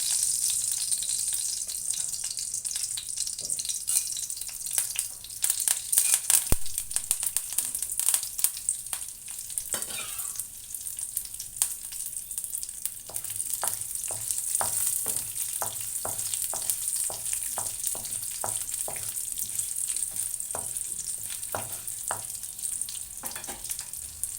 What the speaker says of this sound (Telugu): ఈ తాలింపులో ఒక చిన్న పసుపు ఇంగువ వేసుకున్నాము